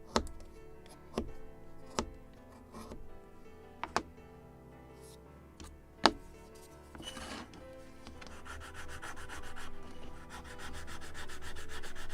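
Hand sanding of a small wooden mast ring for a Model Shipways 1776 gunboat Philadelphia model, a soft close rasping rub with a few sharp taps, then continuous rapid back-and-forth strokes toward the end.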